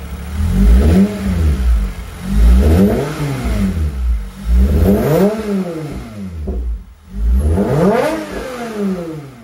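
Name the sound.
Toyota MR2 2GR V6 engine revving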